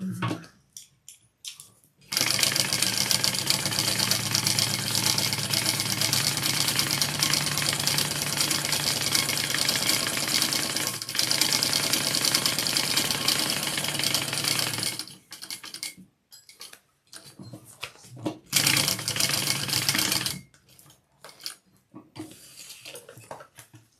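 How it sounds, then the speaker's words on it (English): A sewing machine runs steadily for about thirteen seconds, basting together layers of fabric for a mini backpack, then stops and gives a few short bursts of stitching, with no talking. "I'm going to go ahead and baste my layers together too, because I don't need them to be separate."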